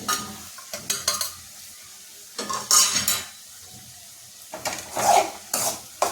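Spices are stirred into a frying bombil dish in a pan, with several bursts of scraping and clattering utensil strokes over a soft sizzle and brief quiet pauses between.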